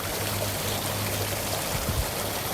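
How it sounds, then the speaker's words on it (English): A public fountain in Kuala Lumpur with water gushing from teapot-shaped spouts, a steady dense splashing roar heard up close and continuous, with no talking over it. "It looks as though the water is spouting from spouts of a tea"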